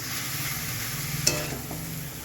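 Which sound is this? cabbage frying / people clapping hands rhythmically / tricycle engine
cabbage frying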